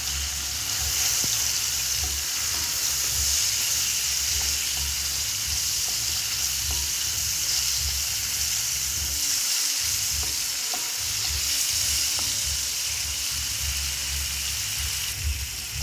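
A rice mixture with turmeric and salt is stirred in a pan for making pulihora, a steady soft sizzle overlaid with scraping stirs and a low rumbling hum throughout, with no talking.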